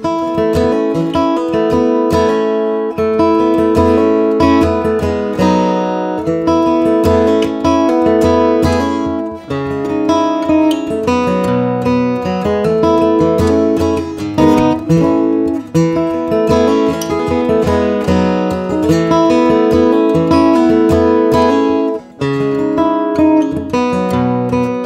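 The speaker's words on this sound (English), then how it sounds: "So the B section of the song will sound like this when it comes together." An acoustic guitar plays the B section of Horseshoe Bend, a steady, continuous flatpicked melody with strummed accompaniment, close and full, without any voice.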